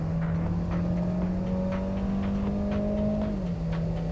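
A car on an attack lap at Fuji Speedway, its engine droning loud and steady as the pitch climbs slowly under acceleration, then dipping briefly near the end as it shifts.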